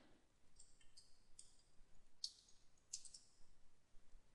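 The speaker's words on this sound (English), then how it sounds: "just click the icon, click sign in" Computer mouse clicks while signing in to Office 365 on a desktop, a few faint, sharp single clicks spaced apart over a quiet room hiss.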